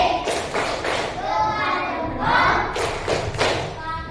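Children in a grade 2 classroom clap a thumb-clap pattern together, a run of quick, fairly loud claps in uneven bursts, with a teacher's voice and kids' voices mixed in around them.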